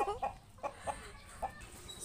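A native chicken clucks in short, repeated bursts, a few scattered calls over steady outdoor background noise, moderately close.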